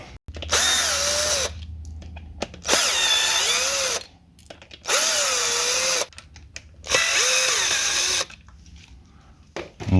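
An electric screwdriver unscrews bolts on the oil lines of a Zetor tractor in four separate whining bursts of a couple of seconds each, its pitch rising and dipping, with short quiet gaps between them.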